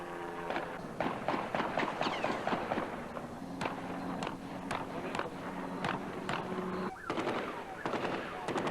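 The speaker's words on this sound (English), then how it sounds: "Oh, they started bringing in some assault rifles." Assault rifle gunfire from the North Hollywood shootout, a police firefight with heavily armored robbers: rapid, steady bursts of shots cracking throughout, mixed with other noise and occasional voices.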